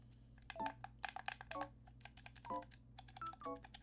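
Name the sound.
clicky button sounds of a game controller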